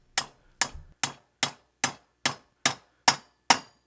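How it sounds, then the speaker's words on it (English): Hammer driving a bearing into a BMW R1200/1250 RT motorcycle rim, nine sharp metallic blows at a steady, even rhythm, close and alone. "I'm going to put it in here and now just drive it in with a hammer."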